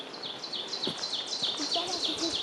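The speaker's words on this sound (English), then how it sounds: "did you hear that, woodpecker?" A woodpecker calling in a forest at a river gorge conservation area, giving a quick even series of about nine high, sharp call notes at moderate distance over soft woodland background.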